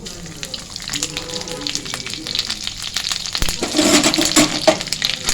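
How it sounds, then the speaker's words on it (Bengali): Grated coconut and whole cumin seeds fry in hot oil with a steady, close sizzle that swells louder toward the end, broken by a few faint clinks from stirring. "একটু ভেজে নিচ্ছি নারকেলটা"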